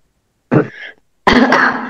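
Two close coughs from a woman with an illness, a short throaty one followed after a pause by a longer, harsher one, alone against silence.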